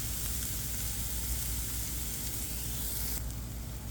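Onions frying in a pan for steak-stuffed mushrooms give off a steady, close sizzle that holds evenly throughout, with no talking.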